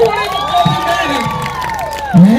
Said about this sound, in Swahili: wanganangu makofi mega